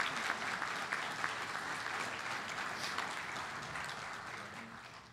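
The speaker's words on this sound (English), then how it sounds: "Please give them a wonderful applause." A conference audience gives sustained, even applause for department officers at a fall session, the dense clapping heard at a distance and slowly tapering.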